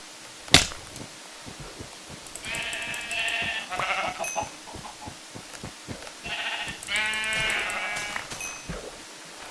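Sheep bleat in two drawn-out bursts in Minecraft over a background of clicks and a sharp snap, all fairly quiet and game-like.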